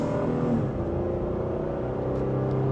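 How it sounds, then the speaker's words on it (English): A 2026 Honda Passport SUV accelerates in sport mode, second gear, its engine a steady, full drone heard close from inside the cabin with no talk over it. "And just a minor acceleration, we can get up to speed"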